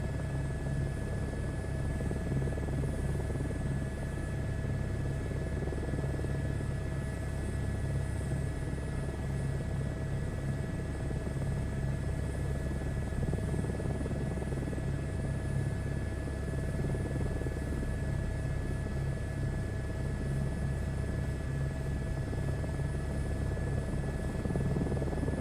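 Huey helicopter in flight in Microsoft Flight Simulator 2024, a steady close rotor thump and engine drone with a high turbine whine running unbroken for the whole stretch, no voices.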